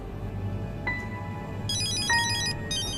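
A telephone ringtone in a dramatic scene chimes twice in short electronic tones, followed by a rapid warbling ring pattern over a low background hum.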